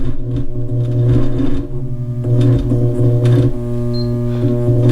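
Sewing machine running steadily through free motion quilting on fluffy batting, stitching quarter-inch lines beside an already stitched line; a continuous close, fairly loud motor hum with a rhythmic needle chatter that briefly dips and resumes, with no talking.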